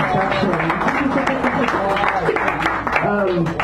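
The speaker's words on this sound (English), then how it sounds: "Can everyone give Dan a round of applause?" Audience applause at an evening poetry reading in Sacred Grounds Cafe, San Francisco, a short burst of close, uneven clapping in a small room mixed with crowd murmur and talk throughout.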